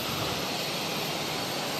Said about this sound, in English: This is Delta Airlines 322 taking off to Atlanta on the A321